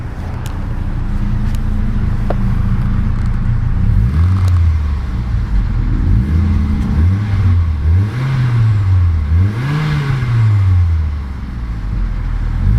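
A 2009 Mitsubishi Lancer Ralliart's turbocharged inline-4 idles with a low hum, then is revved in a series of rising and falling swells, loud and close.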